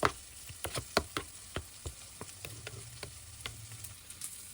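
Onions fry in a pan during paneer biryani preparation, a light continuous sizzle close by, punctuated by sharp utensil taps and scrapes against the pan in an irregular rhythm.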